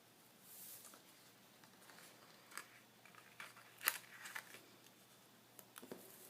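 Scissors trimming paper for a birdhouse tag, a few faint, sparse snips and paper rustles scattered through a quiet room, no talking.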